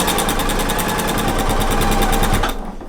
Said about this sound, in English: my first line is sewn, and I'm sewing off my quilt top into my batting